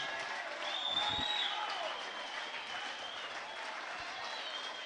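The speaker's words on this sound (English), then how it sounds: "Well-deserved applause." A crowd at an Eagles v Crows Australian football match applauds the players as they walk off after the game, a dense, steady roar of clapping that carries on throughout.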